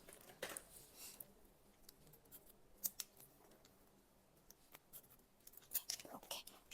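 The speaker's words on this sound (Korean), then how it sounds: "내가 레이어로 잘랐으면은 가위의 날도 이렇게 일자로 들어가죠" Scissors snip through hair during a men's layered dandy cut, a scattering of crisp close clicks at uneven intervals, with a soft low voice faintly underneath.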